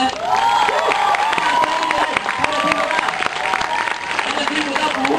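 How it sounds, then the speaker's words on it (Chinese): A crowd at a company sales event claps and screams in welcome before a cheerleading performance, a loud, sustained mix of applause and high shrieks with voices shouting over it. "将让我们掌声加尖叫"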